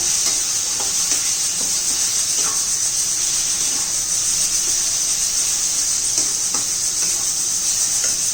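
Steady sizzling hiss of finely chopped ridge gourd sautéing in a pan for chutney, with occasional scraping stirs, continuous and close throughout.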